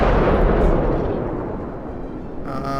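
Cruiser main guns firing in World of Warships, a heavy, booming blast that rolls off into a long fading rumble, loud and close, with a faint ringing tail at the end.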